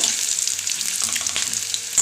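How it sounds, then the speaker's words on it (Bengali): Fish roe fritters fry in a pan of hot oil, a steady bright sizzle with faint crackles that holds evenly through the short stretch, close and alone with no talk. "এভাবে একটু ভালো করে লাল লাল করে ভেজে নিই"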